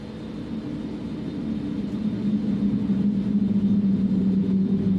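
Jet engines of a BAe RJ100 airliner in the Just Flight simulator produce a steady, loud low drone with a sustained tonal hum, swelling slightly and holding evenly throughout.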